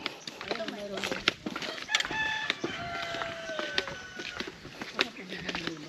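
Chickens cluck and call repeatedly nearby in uneven bursts, with a few drawn-out crowing notes amid farmyard background noise.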